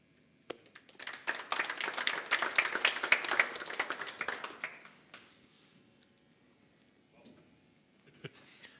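Applause from a small audience at a gratitude event, a quick swell of many clapping hands that peaks and fades within a few seconds, followed by near quiet with a faint voice.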